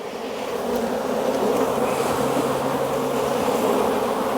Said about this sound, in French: c'est les jeunes abeilles, ça